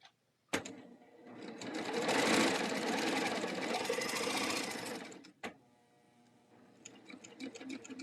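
A serger sewing machine stitches in one steady, loud run of about five seconds, starting and stopping abruptly, with faint handling clicks before and after.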